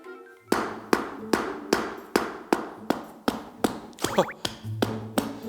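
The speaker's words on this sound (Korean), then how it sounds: "제가 망치로 이렇게 치면은 튕겨져 나가는 느낌이에요" A hammer strikes the steel toe cap of a safety shoe about a dozen times in a steady rhythm, each blow a sharp, ringing knock.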